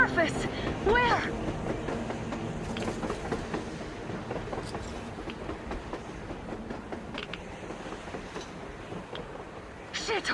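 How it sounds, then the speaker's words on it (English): A train rolls past on the surface in the Metro Exodus video game, a rumbling clatter of wheels and carriages that holds steady throughout, with some voices over it. "A train! A damn train on the surface!"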